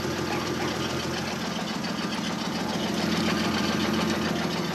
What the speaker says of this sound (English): That's probably the exhaust moving. It sounds like a knock.